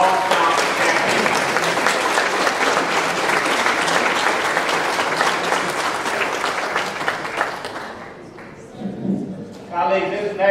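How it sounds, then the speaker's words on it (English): Sustained applause from a crowd at a city honors ceremony for a long jump champion in Buffalo, steady and full for several seconds before fading, followed by a voice speaking. "let's give him a round of applause"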